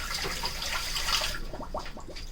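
Ice cream mix poured into the hopper of an ice cream machine, a steady splashing gush of liquid for over a second that tapers into softer trickles and drips, close and fairly loud.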